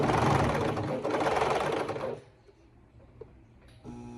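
A coverstitch sewing machine stitches fold-over elastic onto a triangle bikini top in a loud, rapid burst for about two seconds, then stops and leaves quiet handling noise before a short restart.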